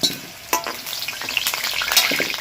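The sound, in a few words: potatoes frying in oil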